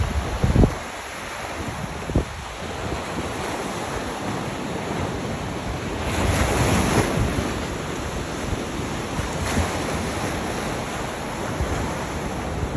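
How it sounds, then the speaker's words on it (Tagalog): Ocean waves roll and wash continuously at night at Varadero, Cuba, a broad steady roar with gentle swells, mixed with some wind noise against the microphone. "Yung wave, yung alon."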